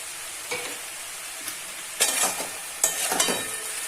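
Pumpkin stems sizzle gently in a pan with poppy seed paste ground with onion and green chilli, under a quiet hiss punctuated by a few sharp stirring scrapes.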